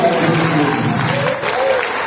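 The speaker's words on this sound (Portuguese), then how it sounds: "Deus, aplauda ao Senhor." A church congregation at a Sunday missions service applauds loudly in a dense, continuous crowd wash, with voices and music-like tones blending into the clapping throughout.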